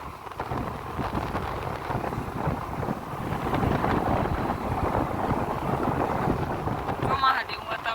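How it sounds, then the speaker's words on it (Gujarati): Cold wind gusting outdoors before rain, a strong, continuous rumbling rush buffeting the microphone and swelling slightly toward the end. "ઠંડો પવન આવે એકદમ"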